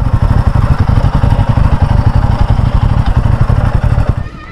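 A motorcycle on a long ride to Mainpat, Chhattisgarh, idles close and loud with a fast, steady engine putter as it is brought in to park, then the engine cuts off at the end.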